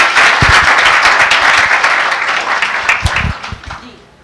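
An audience at a literary festival session breaks into loud applause, a dense wash of many hands clapping that gradually thins and fades toward the end.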